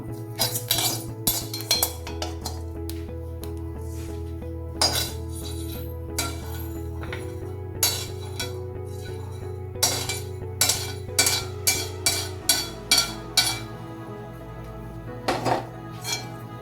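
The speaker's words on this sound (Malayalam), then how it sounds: "ഇനി അരിയും വേറൊരു പാത്രത്തിലേക്ക് മാറ്റി കൊടുക്കാം." Rice being moved from one metal kitchen vessel into another, with repeated loud clanks and scrapes of pots and utensils, close by, over a steady low background hum.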